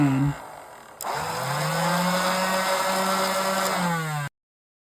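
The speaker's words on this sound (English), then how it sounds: "So, flywheels rev on the bottom trigger" Nerf Fergusen Industries E-11 blaster: a brief motor buzz, then the flywheels spin up into a loud, steady electric whir with a rising high whine that holds for about three seconds and cuts off abruptly.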